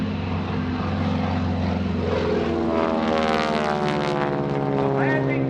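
A P-51 Mustang propeller fighter flies a low, draggy roll with its landing gear down at a naval air station airshow, its engine drone loud and steady throughout, rising in pitch as it passes.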